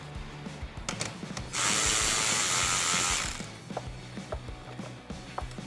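A ratchet wrench with a 10mm socket works a battery terminal nut on a Ford F-150, clicking in quick irregular bursts up close, with a longer steady whirring stretch in the middle.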